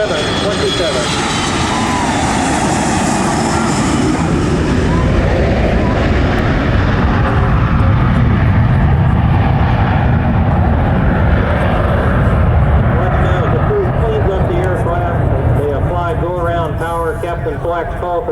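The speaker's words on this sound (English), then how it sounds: "The aircraft's accelerating and departing to set up for its next pass." A FedEx Boeing 727 jet accelerates and departs at a military air show, its loud, sustained engine roar filling the air and slowly shifting in pitch as it climbs away, with an announcer talking over it.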